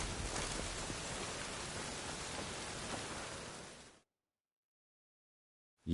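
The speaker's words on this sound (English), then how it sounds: "Rain again." Steady, dense rainfall in The Witcher game, a soft even hiss for a few seconds before stopping suddenly into silence.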